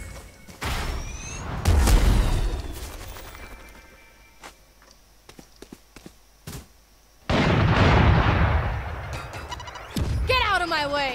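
Explosive blasts from Raze's ultimate in the video game Valorant, with a heavy boom near the start and another loud burst later, separated by scattered small pops, all mixed with game voices.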